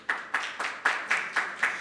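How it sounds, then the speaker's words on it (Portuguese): Audience applause at an academic panel on digital repositories, a steady patter of hand claps pulsing in a regular rhythm, moderately faint and without voices over it. "Salva de palmas, gente."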